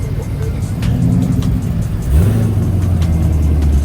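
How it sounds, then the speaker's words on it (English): A modified car engine at a car meet idles with a loud, choppy, lumpy rhythm, then revs up partway through and holds a deeper, stronger growl close by. "Your car sounds so good."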